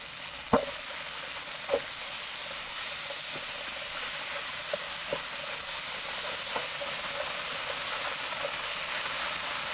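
A simple stew in a pan, lid just lifted, gives a steady close broadband sizzle broken by a few sharp pops near the start and scattered softer bubbling ticks throughout, with no talking.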